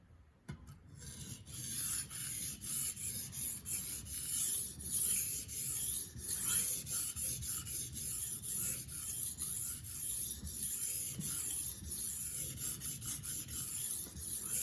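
Dull kitchen knife drawn across a sharpening stone, a steady gritty rasp repeating in even back-and-forth strokes, close and continuous with no talking.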